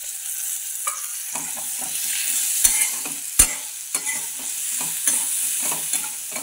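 Green tomatoes stir-frying in a pan for a village-style chutney, with a steady hiss of sizzling and repeated scraping clicks of a spatula against the pan, close and moderately loud.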